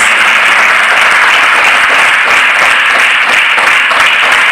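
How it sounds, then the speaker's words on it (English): Loud, dense audience applause at a large leadership summit, a constant roar of many hands clapping at close range that stays steady throughout without any talk. "So please give a big round of applause."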